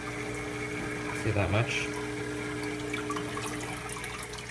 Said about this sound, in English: I'm gonna get some water into this container